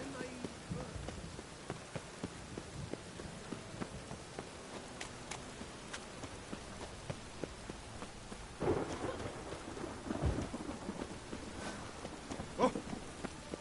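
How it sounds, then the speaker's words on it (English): Steady rain and rolling thunder in a stormy scene from the video game The Witcher 3, with a constant hiss of rainfall, scattered crackles, and deeper thunder rumbles swelling partway through. "It just rains and rains."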